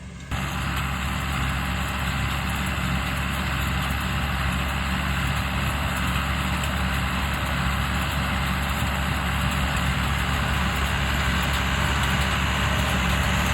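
A farm tractor's engine runs at a steady idle, a loud, constant low rumble with an unchanging hum and no voices.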